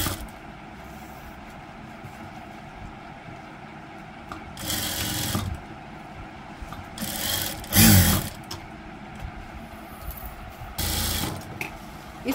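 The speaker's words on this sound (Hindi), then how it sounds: "इस तरीके से आप प्रिंसेस कट पे उसको स्टिच कर देंगे" A sewing machine stitches dori piping onto a princess-cut blouse panel in short separate bursts of whirring, four or five quick runs with quiet pauses between, close and moderately loud.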